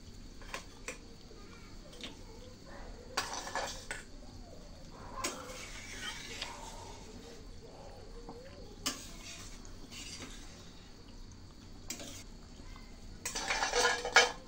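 Fried fish goes into a pot of simmering water and turmeric, with metal utensils clinking and scraping against the cookware in short, irregular bursts, louder toward the end, over a quiet background.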